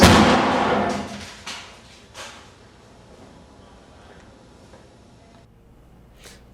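A sugar dust explosion goes off as a loud, rushing burst at the start, sustained for about a second and then decaying into a rumbling tail with a few fainter thumps and crackles, heard through a played video recording.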